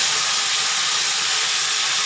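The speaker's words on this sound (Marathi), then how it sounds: "गवार टाकायची." Fresh tender cluster beans (guar) dropped into hot oil, a loud, close, unbroken sizzle and hiss filling the whole moment without pause; no voices.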